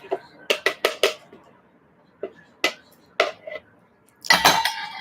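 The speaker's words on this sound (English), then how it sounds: "Use our spatula. We'll get all of the last bits of the soap batter out of there." A spatula scrapes the last soap batter out of a mixing bowl during soap making, giving a close series of sharp scraping strokes and clanks in bursts, with quiet gaps between them.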